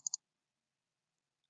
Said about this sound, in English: If I double-click that,